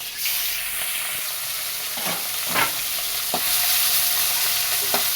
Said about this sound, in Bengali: চিংড়ি মাছগুলো এতে ছেড়ে দিচ্ছি